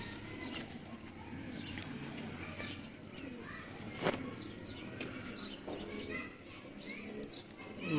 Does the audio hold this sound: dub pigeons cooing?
yes